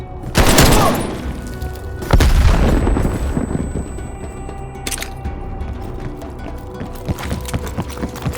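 Gunfire in the video game Call of Duty Black Ops Cold War: loud bursts of rapid shots and booming impacts early on, then scattered mechanical clacks and sporadic shots echoing more faintly.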